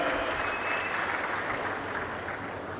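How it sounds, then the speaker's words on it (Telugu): A crowd at a civic cleanliness programme applauds sanitation workers, a dense sustained round of clapping, fairly loud and even across the whole stretch with no talk over it. "అందరూ కూడా గట్టిగా చప్పట్లు కొట్టి అభినందనలు వారికి చెప్పాలి"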